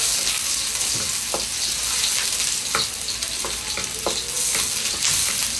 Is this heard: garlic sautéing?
yes